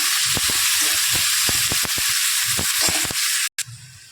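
Onion sautéing in a hot pan for a dhaba-style methi masala, a steady loud sizzle and hiss with scattered crackles and occasional spoon stirs, alone without talk.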